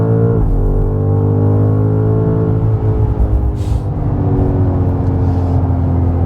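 A new BMW M5 accelerates hard in Dynamic Plus mode on back roads, its engine a loud, continuous drone heard from inside the cabin, rising and shifting in pitch as it pulls, with no speech.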